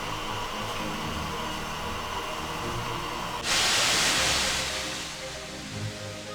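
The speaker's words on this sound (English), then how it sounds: "we welcomed the sights and sound of steam back to the Purbeck once more." A steam locomotive on the Swanage Railway in Purbeck hisses steadily and softly, then bursts into a much louder, brighter rush of steam partway through that gradually settles back down.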